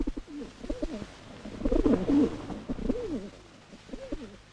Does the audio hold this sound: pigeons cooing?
yes